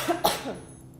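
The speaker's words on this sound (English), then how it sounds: "if you can have a nice strong cough" A single strong cough, close and sharp, follows a Pari PEP breathing exercise, with a short second burst trailing off into quiet.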